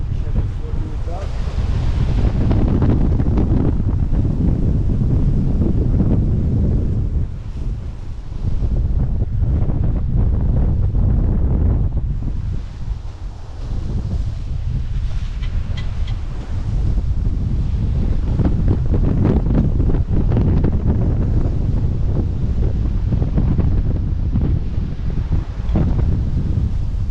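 Strong Beaufort 6–7 wind roars steadily across the microphone while large waves of up to four metres rush and surge around a sailboat on the open Atlantic at dawn, continuous and loud throughout.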